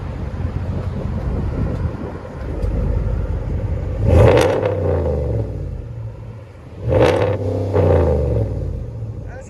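A RAM 1500 pickup with the 5.7L Hemi V8 and aftermarket exhaust rumbles loudly nearby, rising in two strong revs over a continuous deep idle burble with some wind buffeting.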